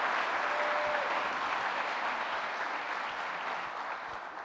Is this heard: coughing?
no